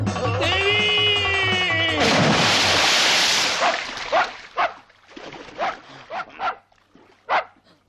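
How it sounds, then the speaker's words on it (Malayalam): A dog barks in a string of sharp, separate yelps that follow a burst of loud voices and noise, the barks spaced irregularly and fairly close. "പട്ടിയായിരുന്നു"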